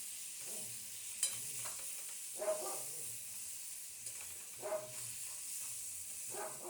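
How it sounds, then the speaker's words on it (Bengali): Katla fish fat being stirred in hot oil, a quiet steady sizzle with several soft scraping stirs at irregular intervals, close and fairly faint, no speech. "এবারে তেলটা দিয়ে ভালো করে নেড়ে নিয়েছি।"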